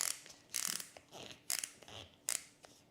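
Klein Tools 13-in-1 multi-bit ratcheting screwdriver clicking through its ratchet in short quiet bursts, four or so brief clicky spurts spaced about a second apart, close up with no voices.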